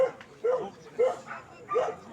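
A young male German Shorthaired Pointer gives three evenly spaced yelping barks, close by and moderately loud, with faint background voices between them.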